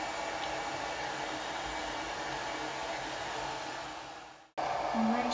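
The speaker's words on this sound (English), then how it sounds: "You really don't want to have any heat on your dryer." A hair dryer on a cold setting blows close by while drying a Havanese dog after a bath, a steady whooshing drone that cuts out abruptly and then resumes.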